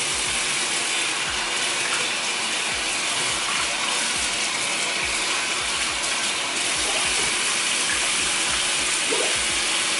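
Tap water gushing over a dusty houseplant during rinsing, a loud, steady close stream with uneven splashing as the leaves and pot shift under the flow.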